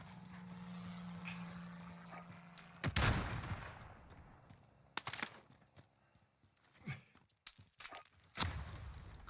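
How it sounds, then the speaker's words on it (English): Precision airstrike in a battle royale shooter game, a hum cut off by a loud sudden blast, then further sharp explosive bursts and crackling impacts spread irregularly, some near, some more distant, no talk. "Precision airstrike missed."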